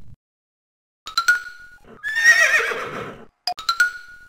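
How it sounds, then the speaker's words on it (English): An electronic Sesame Street toy sound book plays a horse's neigh: short whinnying bursts, then a longer, louder whinny, ending with another quick pair of neighs, all close and clear against silence. "If you press a key, the horse will make a horsey sound."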